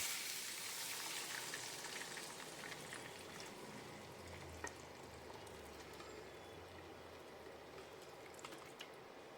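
Dal poured into a mustard seed tempering for a sour green mango dal sizzles in a broad, quiet, steady hiss that settles into a softer bubbling simmer, with faint clinks and no voices.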